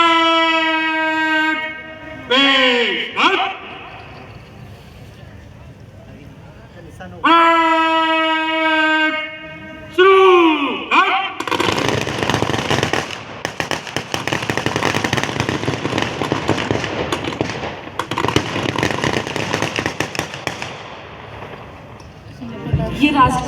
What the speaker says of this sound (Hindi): एक आवाजी कारतूस। यह पहला हर्ष फायर है।